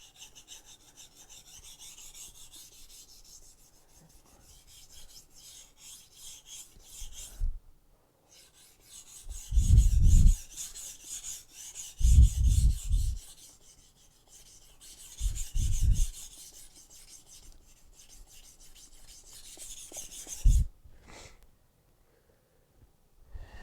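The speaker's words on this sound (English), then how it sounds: "I'm going to take it from one grit to the next until we get a very, very sharp knife." Kitchen knife sharpened on whetstones, moving through grits: repeated rasping strokes in separate bursts, some soft and some louder and closer, with brief pauses between sets and no talking.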